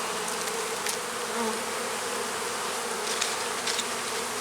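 Honeybees at an open hive during an inspection give off a dense, steady buzz with a few louder passes by single bees, close and constant with no voices.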